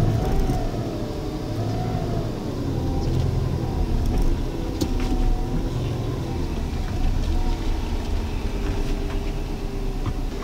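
A Subaru WRX pulls forward at low speed, its engine giving a steady low rumble with faint road and tyre noise, heard close up with no talking over it.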